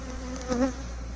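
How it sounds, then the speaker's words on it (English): A honeybee buzzes close by at an open beehive during a brood inspection, a steady drone that swells briefly in the middle of a short stretch with no talk. "it's making me feel a bit anxious having a bee crawling on my face"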